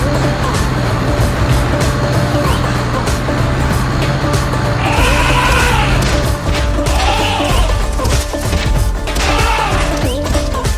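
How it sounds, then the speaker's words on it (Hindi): Tempo auto-rickshaw pulling away from a village, its engine a steady loud mechanical drone with rattling and road noise, continuous throughout with no pauses. "अब टेम्पो को लेकर चलती हूँ गांव से बाहर।"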